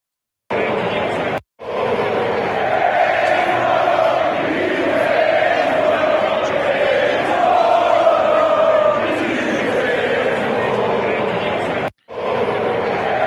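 Atlético de Madrid supporters outside the Wanda Metropolitano stadium on match day, a large crowd chanting loudly and continuously, with two abrupt brief cuts.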